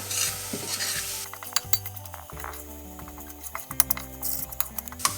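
A spoon scraping and stirring a gluten-free flour roux for white sauce in a pan, with soft sizzling and occasional clinks of utensil against metal, close and steady with no talking.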